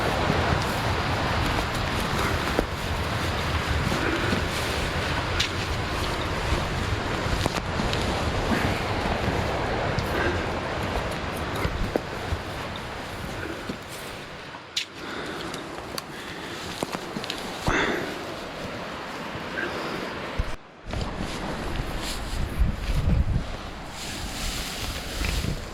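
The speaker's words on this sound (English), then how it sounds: "we can't hear anything with the noise of the river" A New Zealand wilderness river rushes through its riverbed with a constant, broad roar of water, steady and close, and light gusts of wind now and then.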